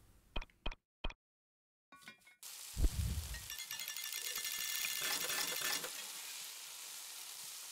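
Potatoes with onions cook in the video game Eastward: a few short menu clicks and chimes, then a thud, then a steady sizzle for several seconds before it stops.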